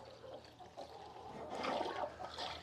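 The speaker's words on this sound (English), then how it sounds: "So we're just gonna pour the mixture down." Liquid feed mixture poured down a feeding tube into a cow, a steady gurgling, trickling wash of fluid that swells louder midway and continues for a few seconds with no talk.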